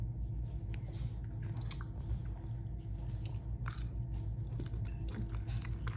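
Close, quiet chewing of a kale and chickpea salad, with repeated soft crunches and moist bites in an otherwise still room.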